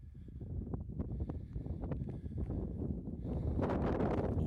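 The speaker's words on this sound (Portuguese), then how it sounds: "o vento persistente, sempre, sempre, sempre presente" Persistent strong wind blows across the plateau of the Selvagens Islands, buffeting the microphone with a continuous low roar and gusty rumble that swells louder toward the end, with no voices.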